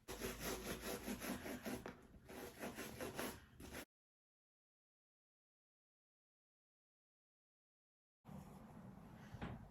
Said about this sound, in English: I'm going to put a little bit on here, and then I'm going to start scrubbing it